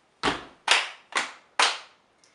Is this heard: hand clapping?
yes